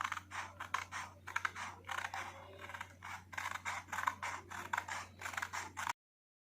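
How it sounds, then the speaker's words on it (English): Scissors snip through paper to cut out a circle, a quick run of close, crisp cutting strokes in uneven bursts over a steady low hum, with no talking. "Now let's cut this circle."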